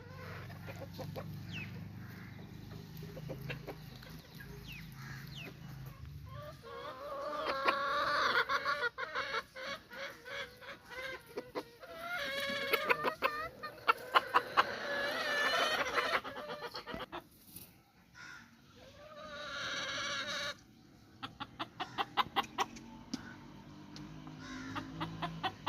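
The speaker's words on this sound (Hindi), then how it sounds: "इसमें देख सकते हैं कि मिक्स जो है उसने मुर्गियाँ पाली हुई हैं।" Mixed breeds of hens, including Misri cross, golden and white birds, cluck and chatter on a poultry farm, a busy close chorus of overlapping calls with occasional louder squawks.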